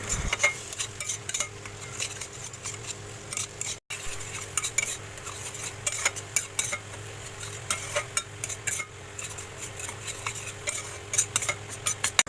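Crab curry masala cooks down in a pan, with constant metal spoon scrapes and clinks against the pan over a soft, steady sizzle, close and busy throughout.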